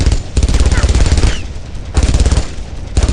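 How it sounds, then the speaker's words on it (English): Machine guns firing in a WW2 shooter, loud heavy bursts of rapid automatic fire with short pauses between them, close and meaty. "All the guns have a really satisfying, nice, meaty sound to them. Especially the MGs."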